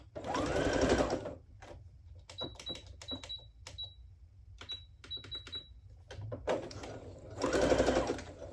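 Sewing machine stitching the bottom hem of men's plaid fabric pants, running in short, close, loud bursts separated by brief pauses, with stronger whirring runs at the start and end.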